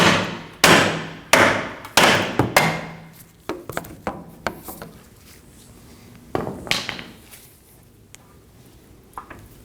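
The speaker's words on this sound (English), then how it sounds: "Now I'm going to hammer on the knuckle." Sharp metallic hammer blows strike a 2015–2024 Ford Edge front steering knuckle during a control arm replacement, a quick burst of loud close hits, then scattered lighter taps with pauses, no talking.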